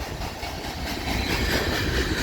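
A CN freight train rolls steadily past the VIA Rail station in London, Ontario, a close, continuous rumble of railcars and wheels on track that grows slightly louder over two seconds.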